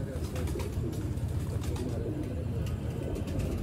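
Old-breed pigeons coo in a loft, their soft throaty calls running continuously beneath someone talking over them.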